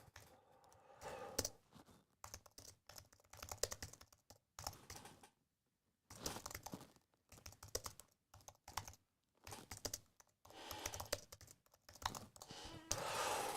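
Rapid clicking of computer keys in bursts, broken by short pauses, close and fairly quiet with no voices.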